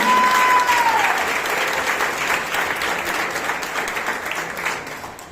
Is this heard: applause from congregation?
yes